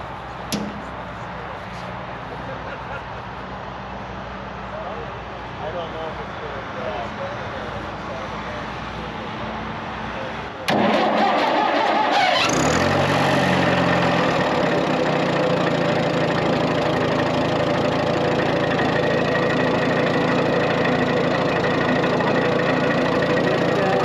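Allis Chalmers D21 front-wheel-assist tractor engine cranks and catches partway through, then settles into a loud, steady low idle after a quieter stretch of background noise.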